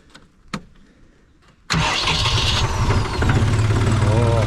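A car engine fitted with a new starter cranks and catches abruptly after a few quiet knocks, then settles into a loud, steady idle close by.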